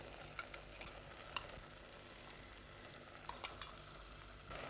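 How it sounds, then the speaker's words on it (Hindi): Spice paste stirred in a pan on a cooking show, a soft continuous sizzle with faint scraping ticks from a spoon, fairly quiet with no voices. "और इसे अच्छी तरह से मिक्स कर लेते हैं।"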